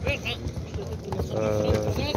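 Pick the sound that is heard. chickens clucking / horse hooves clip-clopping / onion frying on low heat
horse hooves clip-clopping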